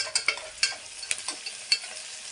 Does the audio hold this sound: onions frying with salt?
yes